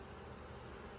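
Honeybees buzzing around a queen cage during a hive split inspection, a steady, dense insect hum close by that holds unbroken throughout, with no talk.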